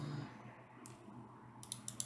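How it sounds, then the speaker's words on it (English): A computer keyboard is being typed on during a quiet coding session: a few faint, sharp clicks land mostly near the end, separated by near-silence. "Let's type"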